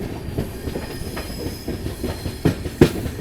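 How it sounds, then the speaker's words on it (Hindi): A passenger train, the Mangla Lakshadweep Express, rolls along a loop line into Chhata station with a steady low rumble. A few sharper wheel clacks stand out near the end, and no one speaks. "तो हमारी ट्रेन को लगाया जा रहा है लूप लाइन पे। और हमारी ट्रेन पहुंच चुकी है छाता।"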